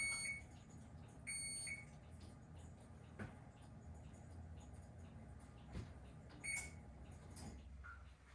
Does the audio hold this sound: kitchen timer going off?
yes